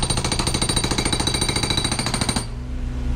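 A rented mini excavator's hydraulic hammer breaks up a concrete pad, pounding in a fast, steady, loud rhythm for over two seconds before cutting off, leaving the machine's lower engine rumble running.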